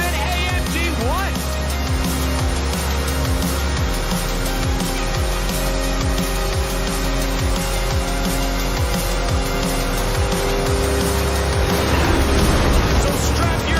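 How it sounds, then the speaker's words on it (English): A low-flying cargo plane racing neck and neck with an AMG car in Forza Horizon: a loud, continuous engine roar with tire squeal, close and sustained throughout. "that is the last inbound cargo flight racing neck and neck with an AMG-1"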